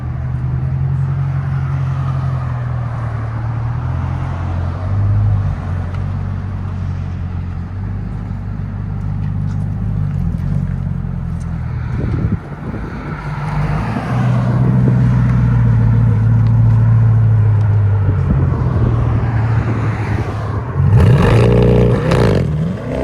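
A 2021 Chevy Corvette C8 with a 6.2L V8 and a Fabspeed catback exhaust, X-pipe and resonators, valves open, rumbles loudly at close range, idling deep, then surging through several strong revs with a brief rattle between them.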